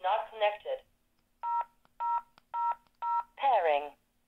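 Push-button phone keypad tones entering digits while setting up a Cell2Jack adapter, four short evenly spaced beeps, clear and close, with a synthesized voice prompt speaking before and after.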